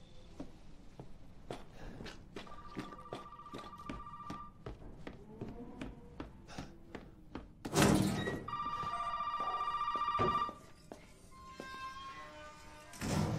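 Telephone ringing in the video game Resident Evil 7, with repeated bell rings among footsteps and thumps, then a loud burst of ringing near the end.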